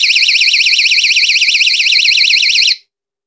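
A door entry alarm shrieks after its magnetic contact breaks, a loud, continuous warbling siren tone that holds steady for nearly three seconds before cutting off abruptly.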